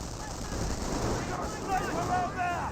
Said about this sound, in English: Sniper now about to fire away